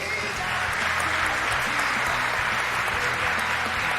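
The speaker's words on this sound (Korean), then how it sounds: "큰 박수 부탁드리겠습니다" Crowd at a KBO baseball draft ceremony applauds steadily as a drafted player receives his uniform and cap, continuous clapping with faint background music underneath.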